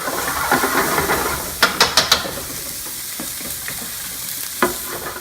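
Onions and scallions sauté in a pan for chili, with a steady sizzle under a few sharp scrapes and clacks of a stirring spoon, close and fairly loud with no talking.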